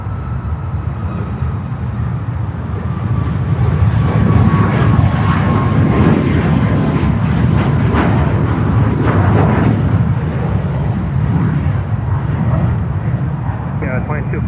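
A jet airliner at Newark airport roars steadily and loudly throughout, a broad continuous engine rumble that swells slightly in the middle, with a faint radio voice in the background.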